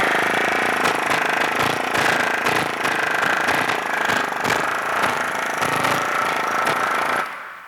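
A pneumatic air hammer pounds sheet metal in a rapid, loud, continuous hammering that runs for several seconds before cutting off abruptly.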